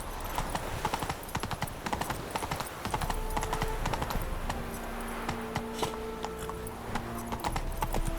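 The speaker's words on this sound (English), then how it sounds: "Whoa there, Roach." Horse hooves clip-clopping steadily in The Witcher 3 video game, a continuous rhythmic trot heard up close with faint ambient background.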